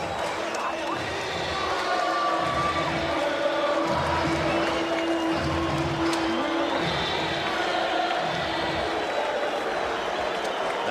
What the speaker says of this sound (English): Listen to this crowd and that chant